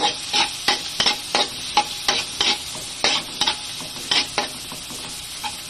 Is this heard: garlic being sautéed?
yes